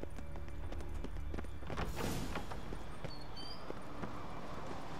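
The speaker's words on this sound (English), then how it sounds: "Grab a horse, we'll chase him down." Horse hooves clip-clop at a steady running pace in The Witcher 3 video game, continuous and moderately loud under a busy game soundscape with a brief whooshing swell in the middle.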